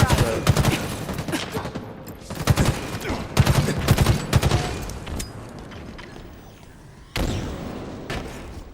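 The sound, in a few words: gunfire in a video game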